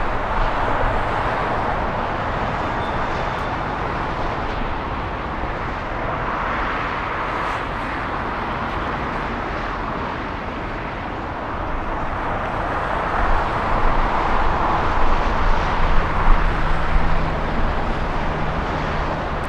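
A jet takes off at LAX, a distant broadband roar that swells slightly toward the end and holds steady without speech.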